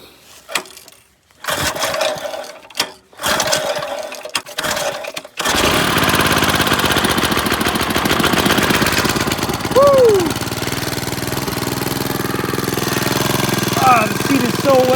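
A small pull-start engine is cranked after fuel and choke are set, then catches and runs loud and steady close by, preceded by brief bursts of pull attempts; a voice speaks briefly over the running engine.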